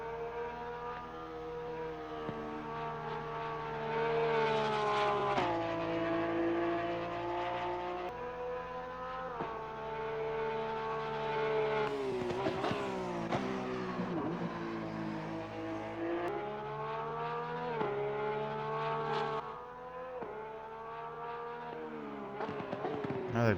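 A 2018 Porsche 911 GT3R race car engine howls through a hot lap of Barcelona in Assetto Corsa Competizione, with a loud continuous harmonic drone that climbs and drops with each gear shift and braking zone, unbroken by speech.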